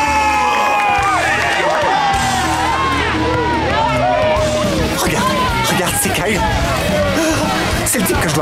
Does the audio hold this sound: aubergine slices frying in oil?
no